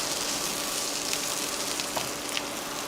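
Finely chopped onions frying in a hot pan for a paneer curry, an even close sizzle with a few faint crackles and no talking.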